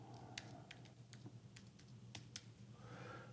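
Keystrokes on a computer keyboard as a shared network key for a Starlink and Peplink setup is entered, a quick irregular run of light clicks, close and fairly quiet, with no talking.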